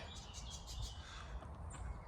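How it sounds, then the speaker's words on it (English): Faint bird calls repeat in a quick rhythmic series over a low outdoor rumble, followed by a single higher chirp, in a bluebell woodland and arboretum near farmland at Whalley, near Clitheroe. "What's that bird we can hear?"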